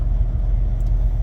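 Deep, steady rumble of engines and road traffic at a truck stop, loud and continuous with no breaks.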